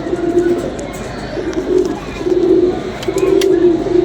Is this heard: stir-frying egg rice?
no